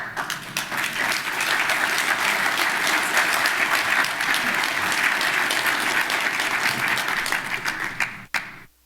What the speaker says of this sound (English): That always gets applause.